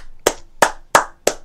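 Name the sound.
hand clapping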